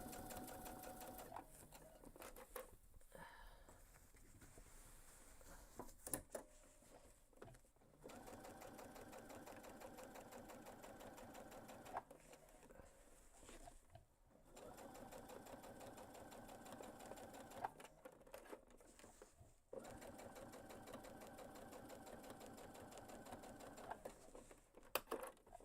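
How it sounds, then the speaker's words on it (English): A sewing machine stitches a seam on a backpack padded with foam, running in long, steady whirring bursts separated by short pauses, close up but quiet. "I'm going to sew down this side."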